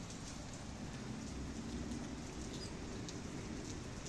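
Steady rain falls continuously in southern Brazil, a dense even hiss with scattered drops, with no voices and no pauses.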